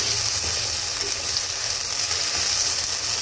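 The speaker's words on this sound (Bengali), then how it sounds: "দুই এক মিনিট আদা রসুন বাটাটা একটু ভাজা হয়ে গেলে" Onion, ginger and garlic paste fries in oil for chicken biryani, a close, continuous sizzle and crackle with faint scraping, no voices heard.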